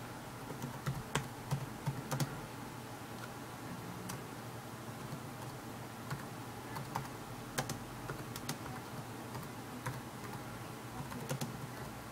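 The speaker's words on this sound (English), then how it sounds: "As I mistype everything I'm typing on my laptop." Soft, fairly distant keystrokes tapped on a laptop keyboard, an irregular patter of clicks over steady background hum with no voices.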